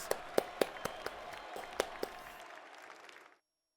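Applause in the video game Metaphor during the Tournament of Kings, a brief burst of sharp distinct claps with a few stronger hits, tapering off and ending abruptly in silence.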